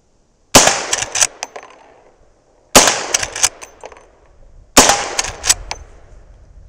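.357 Magnum Henry Big Boy lever-action rifle firing powder-coated 158-grain loads with Alliant 2400 at a propane tank: three sharp, loud shots about two seconds apart, each followed by ringing metallic echoes and reverberation.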